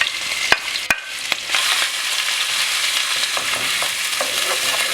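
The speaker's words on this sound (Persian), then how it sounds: "روغن که داغ شد، پیازایی که رنده کردیم رو اضافه میکنیم به قابلمه." Grated onions hit hot oil in a pot for a Persian okra stew, giving a few sharp clanks of a utensil followed by a steady, bright sizzle and frying hiss that continues close up without any talking.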